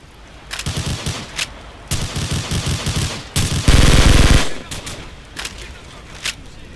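Automatic weapons rattle in bursts in a Call of Duty match set in Rocinha, Rio at night, with loud rapid volleys, one sustained long burst near the middle and short shots trailing off.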